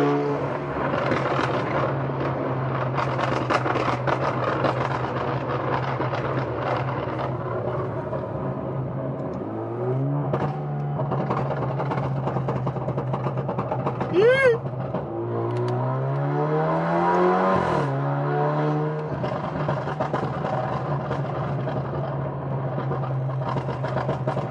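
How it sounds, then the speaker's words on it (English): Tuned Alfa Romeo Giulia turbo engine revving hard and steadily nearby, dropping off and climbing again in sweeping rises, with a sharp whistling spool and brief crackling pops between pulls. "Ooh, that turbo, bro. Turbo sounds really nice, huh?"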